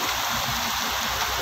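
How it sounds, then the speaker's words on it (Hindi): Heavy rain pours down in Makkah amid deep standing water, a dense, loud, continuous hiss of falling water with no break across the short stretch. "बहुत ज़्यादा बारिश हो रही है।"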